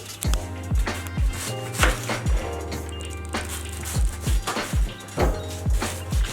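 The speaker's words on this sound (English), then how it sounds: "Hiwaing ang repolyo." A sharp knife slices through tough white cabbage on a board. The cuts land in a quick, regular run of crisp, close crunches, about two a second, over soft background music.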